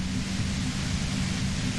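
Steady broadband static hiss from a radio-like white noise effect in the video game Disco Elysium, a constant loud wash with a low rumble, no talking.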